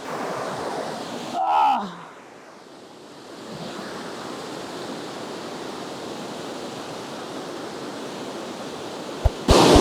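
Kothapalli waterfall roars as a constant broad rush of falling water, close and loud, after a brief whoosh of wind near the start, with a sharp clatter at the very end.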